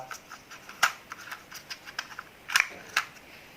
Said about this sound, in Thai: ส่วนขาของใบพัดสามารถกางออกพับเก็บได้นะครับ นี่นะครับกางออกนะครับ